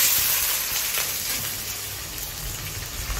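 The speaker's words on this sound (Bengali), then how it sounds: "আমরা এখন পেঁয়াজটা দিয়ে দিচ্ছি।" Chopped onion hits hot oil and fries with a steady, dense sizzle that stays loud and close throughout, with faint stirring underneath, while cooking chicken kosha in Chattogram, Bangladesh.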